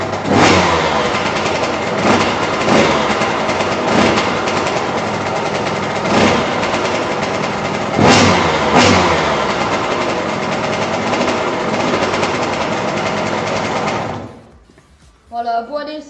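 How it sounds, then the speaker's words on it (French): A KTM 65 SX dirt bike engine revs hard and continuously up close, loud and held at high throttle for about fourteen seconds before cutting off, then a brief final blip. "ils voulaient entendre le bruit de la moto, les trucs comme ça"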